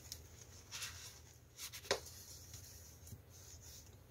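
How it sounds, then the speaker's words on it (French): Faint scraping and rubbing of a bone folder drawn across paper to crease a fold, with a few soft strokes and one sharper pressing sound, in a quiet room. "on prend notre plioir et on va marquer le premier pli"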